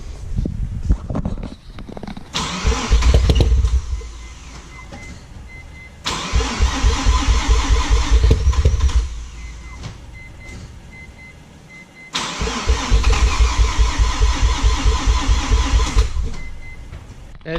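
Mazda RX7 FD rotary engine cranking in three repeated long attempts, a loud churning starter-and-engine rumble that cuts off between tries, close up with no talk.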